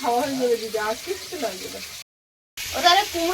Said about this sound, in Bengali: আর আলুটা ভাজা হচ্ছে